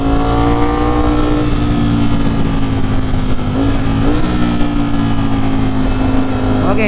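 A Ducati Streetfighter hyper naked motorcycle engine runs loud and close throughout, its tone rising and falling with throttle and revs as the bike rides, with a voice briefly audible over the exhaust.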